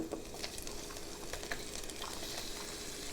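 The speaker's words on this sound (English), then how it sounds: "So cook onion in butter until clear." Chopped onions frying in butter in a pan for beef stroganoff, a soft continuous sizzle with light crackles, close and quiet, with no talk.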